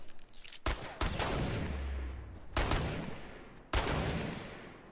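Three sharp pistol shots ring out in a Fortnite match, spaced over a few seconds, each a loud crack with a long reverberant tail that decays slowly, with no voices.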